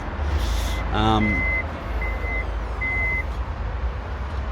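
Electric tailgate on a Toyota RAV4 sounding a short series of steady beeps, three separate tones spaced about a second apart, over constant low wind rumble.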